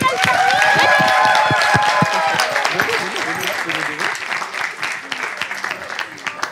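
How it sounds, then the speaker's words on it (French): A room full of people applauds with dense, steady clapping that gradually thins and softens into scattered claps. "Bah, applaudissez"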